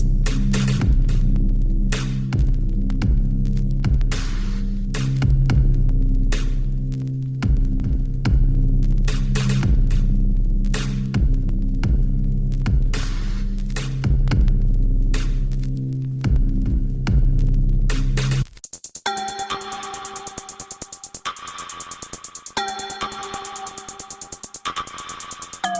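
A cranked Aethercaster, a Victorian-style spirit device, gives off a steady throbbing hum with pulsing low tones, then shifts to crackling static with thin tonal whines near the end, loud and continuous with no talk.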